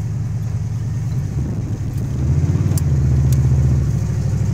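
A 1978 Chrysler Cordoba engine idling with a loud, steady low exhaust rumble close by, swelling to a fuller, rougher throb about halfway through, with a couple of faint clicks.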